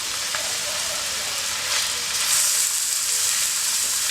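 Minced meat for lasagna fries in a pan, a steady close sizzle that swells into a brighter hiss partway through, with a faint scrape early on.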